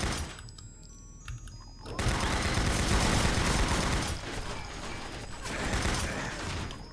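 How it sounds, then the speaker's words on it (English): A chaingunner enemy firing its chaingun in Doom 64, a sudden burst of rapid, rattling gunfire that kicks in after a quieter moment and continues loudly, with mechanical clatter. "There was a chain gunner above me."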